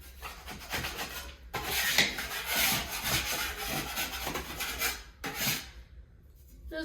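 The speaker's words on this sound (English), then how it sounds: "I'm first gonna be grabbing my knife and scraping off anything that's on there" Drywall knife scraping a wall flat before taping a drywall patch, a steady close rasping rub with short breaks, continuous and fairly loud with no talking.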